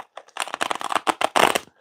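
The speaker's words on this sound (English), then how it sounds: "hopefully I just didn't invert my shuffle" Oracle cards from an inexpensive deck being shuffled by hand, a series of quick papery riffles and flutters in close, steady bursts with brief pauses between them.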